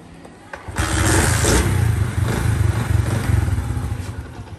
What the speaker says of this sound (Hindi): तो बाइक के ऊपर बैठते हैं, इसको स्टार्ट करते हैं